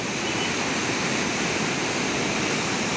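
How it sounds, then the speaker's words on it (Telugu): Floodwater from the Godavari barrage at Rajahmundry rushes out in a loud, steady roar, a dense unbroken wash of torrent noise from start to finish with no voices. "చూడండి ఎలా వస్తుందో బ్యారేజ్ నుండి."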